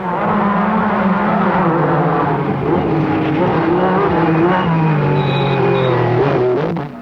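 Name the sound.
Lancia Stratos mid-engine rally car driving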